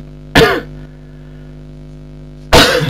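Two sharp coughs about two seconds apart, close and loud, with a faint steady hum underneath and no talking.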